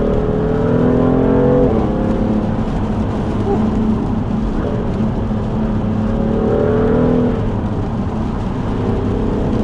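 A BMW F80 M3 tuned to Bootmod3 Stage 2 accelerates hard on a wet road in Sports Plus mode. The engine roars loudly from inside the cabin, rising through the revs with clear gear shifts.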